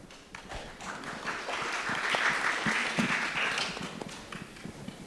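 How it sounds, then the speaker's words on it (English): Audience applause for a panel discussion at an Earth observation industry event, a steady dense clapping from a crowd that swells toward the middle and holds for about five seconds before easing slightly. "So maybe we can start with a round of applause,"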